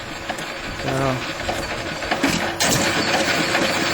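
A small gasoline engine drives a 1/3 scale John Deere hay press built from plans, running steadily with a continuous mechanical chug that grows louder and busier partway through, with a faint voice in the background.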